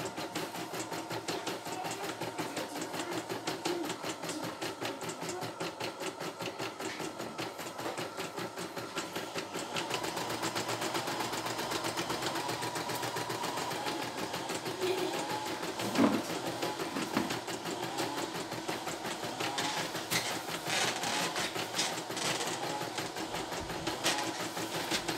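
A CNY E960 portable embroidery machine stitches in a fast, steady mechanical clatter, its rhythmic needle pulses running without pause for the whole stretch.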